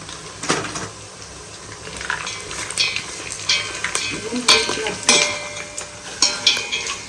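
Peanuts fry in a pan for pulihora and are stirred, with a constant sizzle under repeated scraping and clinks of a spoon against the pan.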